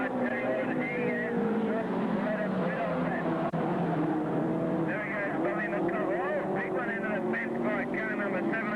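Small race cars roar around a dirt speedway, their engines whining and rising and falling as they pass, under steady trackside commentary.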